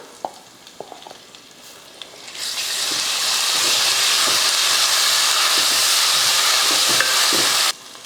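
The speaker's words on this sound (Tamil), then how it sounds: "ஒரு மூணு ஸ்பூன் அளவுக்கு இஞ்சி பூண்டு பேஸ்ட் போட்டுக்கலாம்" Ginger garlic paste hits hot oil in an aluminium biryani pot. Quiet clinks come first, then a sudden loud, steady sizzle and hiss that lasts several seconds before cutting off sharply.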